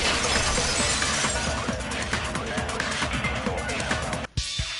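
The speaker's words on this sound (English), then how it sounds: "If it wasn't the window, then what broke to make that sound? A vase." A vase shatters in the video game Danganronpa 2, a loud, dense crash of breaking ceramic and scattering shards sustained across the clip, ending in an abrupt cutoff and a brief final clink.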